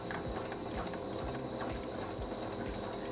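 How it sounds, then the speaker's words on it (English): Sewing machine stitching a square around 1-inch elastic in a skirt waistband, a steady mechanical whir with a fast ratcheting clatter, close and continuous, no voices. "we're going to go ahead and stitch a square around our 1-inch elastic"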